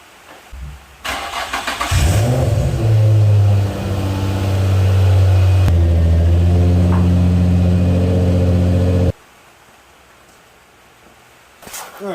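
A Nissan 350Z engine cranks and fires up, then runs with a steady, loud hum and slight revving as the car is backed out. The engine cuts off abruptly, leaving near silence.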